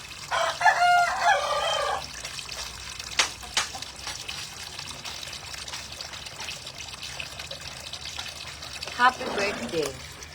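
A rooster crows in a yard, one loud, close call near the start and a second fainter crow near the end, with scattered background noise in between.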